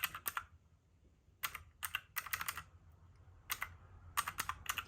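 Bursts of computer keyboard typing, quick clicky keystrokes in short clusters separated by brief pauses, close and fairly quiet with no voices.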